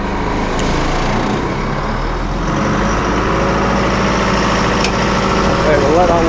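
A vehicle engine parked and chocked on a steep hill idles to warm up, giving a steady, close, unbroken rumble throughout.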